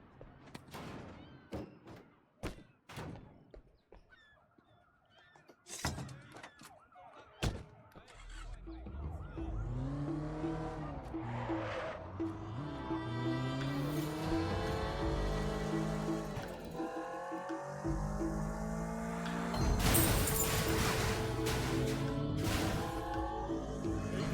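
A stolen car driven in the Sleeping Dogs video game: a series of thumps and clicks, then a steady engine drone that revs and accelerates, with a loud burst near the end.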